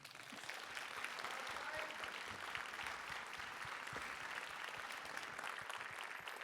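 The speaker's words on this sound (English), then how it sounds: "Once again, give a round of applause to Houda." Applause from an audience at an academic paper session on algorithmic power and justice, a continuous even round of clapping heard faintly and at a distance throughout.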